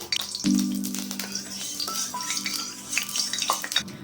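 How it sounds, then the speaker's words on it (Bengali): Bori lentil dumplings fry in hot mustard oil in a kadai, a close steady sizzle with a brief hiss at the start and scattered clinks of a utensil, no talking. "প্রথমে কিছু বড়ি ভেজে নেব"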